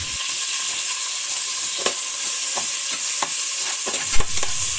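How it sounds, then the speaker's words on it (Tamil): Onions stir-fried in a pan for beef biryani give a constant bright sizzle, with scattered scraping stirs of a spatula throughout and a slightly louder scrape near the end. "ஆனியன் சேர்த்து நல்லா பரட்டி விட்டுக்கோங்க"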